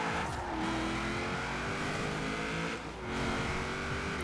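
In Forza Horizon 4, a car swapped to an LS engine revs hard and continuously with a loud, harmonic drone, climbing and shifting pitch as it accelerates.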